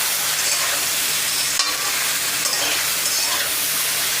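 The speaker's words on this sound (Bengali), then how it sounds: "নাড়িয়ে নিয়ে আমি আবার ঢেকে মশলাটা এবং সবজিটাকে ভালো করে কষিয়ে নেব" Pointed gourd and potato curry with cumin powder and a little turmeric is stirred in a pan, a steady oily sizzle with scraping strokes of the spoon close by.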